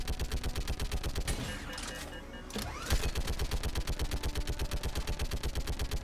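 Rapid automatic gunfire with ricocheting bullets in a shooter video game, dense rhythmic bursts filling most of the span, loud and close, briefly thinning in the middle before resuming.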